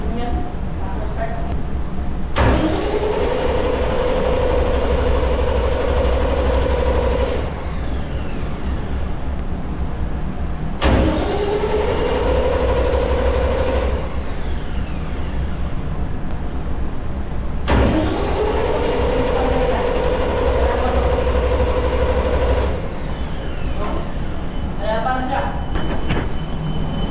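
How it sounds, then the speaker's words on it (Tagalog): An emergency generator engine cranks three times in separate bursts of several seconds each, each attempt whirring and sputtering but never catching, with a steady background hum between tries. "Bali 3 beses mag-andar yung makina tapos hindi siya mag-start"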